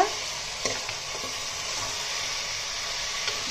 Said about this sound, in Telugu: ఇది ఉడుకుతుంటూ ఉంటుంది